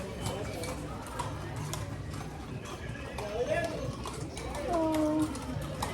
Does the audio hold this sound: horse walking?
yes